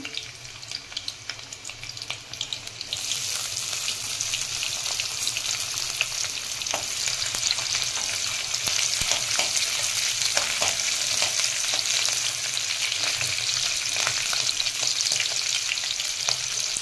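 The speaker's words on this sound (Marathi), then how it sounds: "ते बघा, लसूण तेल गरम झालेलं होतं, ते लसूण चांगलं लाल करायचं।" Garlic frying in hot oil with green chillies, a loud, steady sizzle that swells after the first few seconds and crackles continuously close up, with faint stirring scrapes underneath.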